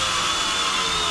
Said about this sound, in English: I'm drilling right in the centre of the hole